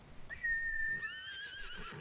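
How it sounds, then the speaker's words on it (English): A horse in a video game gives a single high, drawn-out neigh that wavers and breaks into a falling whinny, moderately quiet over faint game ambience. "Grab my horse."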